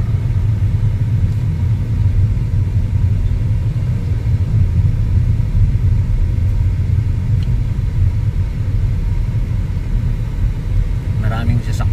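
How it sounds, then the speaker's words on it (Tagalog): Heavy road traffic with many vehicles, a loud continuous low rumble of engines passing close by, steady for the whole stretch with no pause. "Maraming sasakyan. Siyempre nasa kalsada, di ba?"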